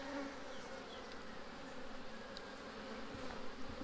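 Honey bees buzzing around an open hive during an inspection of the second brood chamber, a soft, dense, continuous drone of many wings close by with small shifts in pitch.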